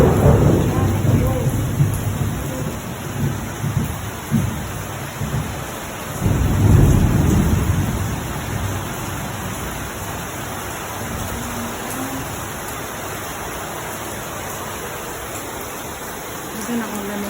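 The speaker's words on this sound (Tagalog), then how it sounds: "Super lakas ng ulan." Heavy rain in Singapore with rolling thunder, a steady loud downpour throughout and deep rumbles of thunder early and again around the middle, heard from indoors in a basement, with a voice speaking briefly.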